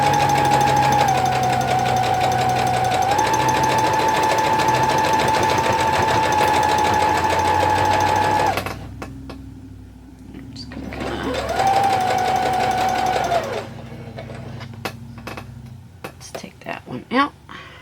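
A sewing machine with a quarter-inch piecing foot stitches quilt fabric along a marked line, giving a loud, steady mechanical hum that shifts speed, stops, then runs again briefly before quieter handling noises.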